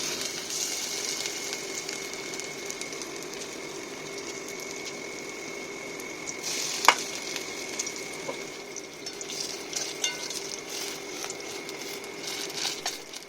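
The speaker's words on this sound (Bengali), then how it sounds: "এবার দেখো আবার বাকি বড়াগুলো আমি ভেজে নিচ্ছি" Fritters (bora) frying in hot oil, a steady faint sizzle and patter running throughout with a brief sharper crackle near the middle, no voices.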